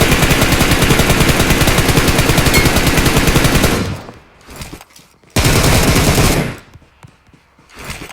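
Automatic gunfire in the mobile battle royale game PUBG Mobile: a long loud sustained burst, a short quieter spatter, then a second full burst and scattered shots, all close and harsh.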